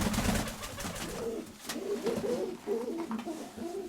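Pigeons coo in soft, repeated throaty phrases close by, with a burst of rustling noise at the start.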